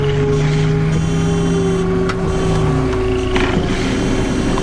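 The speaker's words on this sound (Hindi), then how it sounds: "वही पुरानी ब्लैक सीडान कार, वही अजीब गूंजती इंजन की आवाज।" An old black sedan's engine hums in a Hindi haunted-house cartoon, a loud, continuous droning tone that wavers slightly in pitch and carries an echoing, eerie quality.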